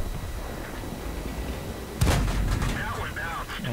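A single loud tank cannon shot booms out in a World of Tanks battle, followed by rumbling echoes and debris, with game ambience before it and a voice talking over it.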